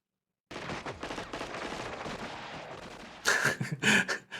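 Gunfire in a shooting range scene from the 1987 film RoboCop: a continuous rattling stretch of shots, then louder, sharper bursts near the end.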